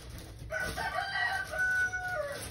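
A rooster crows once at moderate distance, a drawn-out call standing out over a faint background hum.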